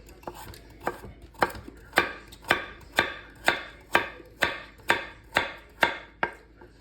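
Chef's knife chops vegetables on a cutting board in a steady run of about a dozen crisp, evenly spaced knocks, close and clear with no talk.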